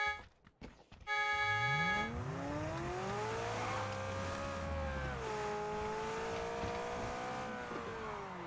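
A car in PUBG driving close by: the engine starts with a sputter, then revs up and holds a steady, loud drone that rises and dips slightly with speed, with no talk over it.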